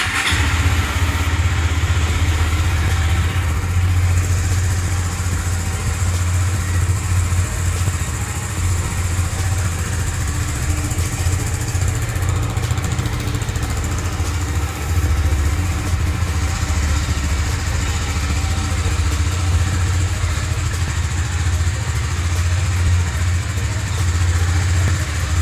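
A KTM RC 390 motorcycle idles after a cold start, a loud, close, steady single-cylinder rumble holding an even beat from start to finish.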